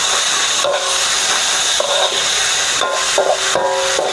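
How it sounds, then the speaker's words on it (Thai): Food stir-fried in a hot pan until dry gives off a loud, steady sizzling hiss, close up. Brief chirpy flares break through now and then. "อย่างเงี้ยเสียงจะดังฉาาเนี่ยแสดงว่าเริ่มแห้งดี"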